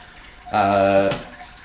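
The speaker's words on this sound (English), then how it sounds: "I'm putting water in up into the hole so it doesn't actually go in the hole" Water being poured into a Grainfather all-grain brewing system while making a home stout, a steady close splashing pour lasting about half a second before it cuts off.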